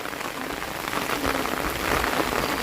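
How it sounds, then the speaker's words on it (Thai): Steady rain falls and patters on a surface, a dense, even hiss close by with no voices. "มื่อนี้ฝนตกละเปียกละ"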